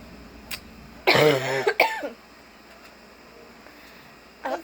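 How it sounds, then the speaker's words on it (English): A sharp, harsh cough burst near the microphone, followed by a shorter second cough, then quiet with a faint noise at the end. "It makes me cough a lot and it makes my voice sound weird"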